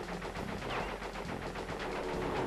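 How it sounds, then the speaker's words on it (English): Rapid machine-gun fire aimed at the player in Crash Bandicoot 3, a steady, fast-repeating burst of loud shots over a game backdrop, continuous for the whole span with no talk. "Stop shooting me, you jackasses."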